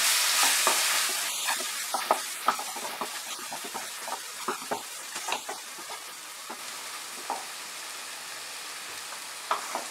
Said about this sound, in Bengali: এবার আঁচটাকে একদম কমিয়ে দিয়ে আমি কষিয়ে দেব।